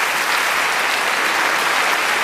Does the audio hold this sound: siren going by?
no